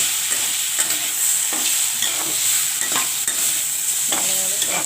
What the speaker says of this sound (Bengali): এটাকে ভালো করে নেড়ে চেড়ে নেব।